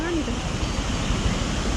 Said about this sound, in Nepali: कस्तै पानी परिरहेछ यार 2-3 दिनदेखि त